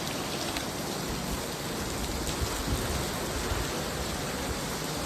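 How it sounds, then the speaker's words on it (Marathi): Steady rain falling outdoors in a village, a dense even hiss of drops continuing unbroken throughout, moderately loud with no talk over it. "आणि आता ना मला जायचं आहे अजून बघा पाऊस."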